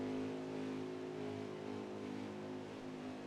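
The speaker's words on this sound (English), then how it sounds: "You guys can hear that he is out of gas on stream." Race car in a racing video game at Pocono, out of fuel and coasting at low RPM: a steady, droning engine hum with low harmonic tones, continuous and fairly close, no talking.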